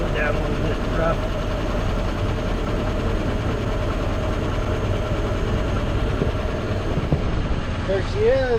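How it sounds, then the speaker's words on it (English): A 1947 Ford truck's engine idles rough, a low rumble running steadily throughout, with faint chirps and a few brief background voices. "That's why it's idling down a little bit rough."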